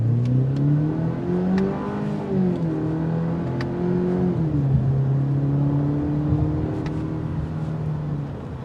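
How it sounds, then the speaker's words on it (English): A 2022 Cadillac CT4 sports sedan accelerates hard, its exhaust note rising in pitch through the revs, dipping briefly at a shift, then pulling strongly again, loud and close throughout with no talking. "That exhaust note is phenomenal"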